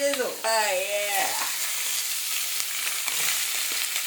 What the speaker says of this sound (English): You wanna hear the good sizzle.